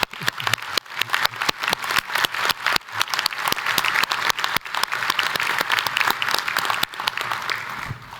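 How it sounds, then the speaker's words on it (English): A university convocation audience applauds President Curl, a dense, loud sustained round of clapping from a large crowd, with sharp individual claps standing out near the start, and no talk over it. "Please join me in another round of applause for President Curl."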